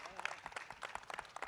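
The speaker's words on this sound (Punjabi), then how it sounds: "ਇੱਕ ਵਾਰ ਜ਼ੋਰਦਾਰ ਤਾੜੀਆਂ ਹੋ ਜਾਣ ਜੀ" Audience applause at the grand finale of a televised Punjabi singing contest: a quiet, dense patter of clapping hands that stays fairly steady through the short stretch, with a brief voice at the very start.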